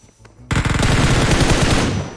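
Automatic gunfire in the mobile battle royale game PUBG Mobile bursts in suddenly after a quiet moment, a loud rapid stream of shots that continues without pause to the end.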